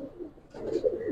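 A male Giribaz pigeon at a loft gives a short, low throaty coo, close and fairly soft, rising slightly toward the end.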